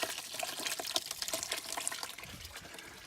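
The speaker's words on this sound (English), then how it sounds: "we're running water, flushing out the rad now" Water from a hose runs through the radiator of a 2003 Cadillac CTS during a flush, a steady hissing, splashing gush that continues close by and fairly loud, with no voices.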